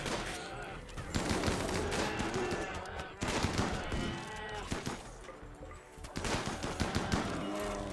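Busy bursts of gunfire from the video game RimWorld, dense volleys of shots and impacts layered over game music, steady and loud across the whole stretch with brief dips, no voices.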